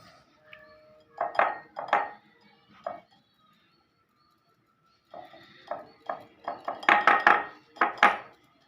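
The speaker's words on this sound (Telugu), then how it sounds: "ఇదంతా జల్లించుకోవాలి" Bursts of rhythmic metallic rattling and tapping, a sieve being shaken and knocked in quick clusters as flour, salt and baking soda are sifted for cake, with a short quiet gap in between.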